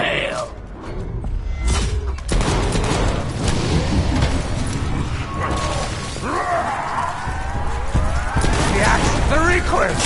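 Gunfire in the zombie game Blood of the Dead, with bursts and crashing impacts mixed with clanking mechanisms and thuds, layered under a character's voice throughout.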